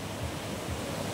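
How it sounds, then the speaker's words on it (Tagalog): Big surf waves breaking on the beach at Urbistondo, San Juan, La Union, a steady broad wash of rushing water with wind noise, no distinct single crash. "Lalaki ng alon, mga kailyan."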